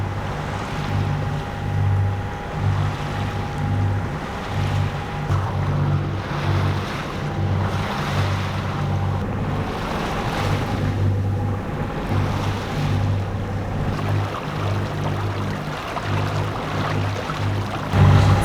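A Beneteau sailboat heads out across the Bay of Biscay, with waves washing against the hull and wind buffeting the microphone in a loud, continuous rush and no talk.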